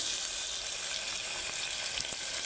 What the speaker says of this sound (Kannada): ಕೆಂಪಗಾಗುವವರೆಗೂ ಹುರಿದುಕೊಳ್ಳಿ ನೋಡಿ ಈಗ ಈರುಳ್ಳಿ ಫ್ರೈ ಆಗಿದೆ ಈಗ ಟೊಮೆಟೊ ಸೇರಿಸ್ಕೊಂಡಿದ್ದೇನೆ